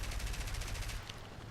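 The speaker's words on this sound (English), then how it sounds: "Fire some machine guns to freak him out and to force him to turn a bit" A Bf-109G10's machine guns fire a rapid, steady burst in the War Thunder flight game, close and loud for about a second before trailing off into engine drone.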